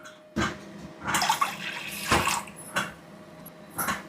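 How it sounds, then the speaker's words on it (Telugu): Water poured from a glass into a cooking pot for a curry of drumstick leaves and sesame flour, in several separate splashy bursts with short pauses between them. "ఒక గ్లాస్ తెలగపిండికి రెండు గ్లాసులు నీళ్ళు వేసాను"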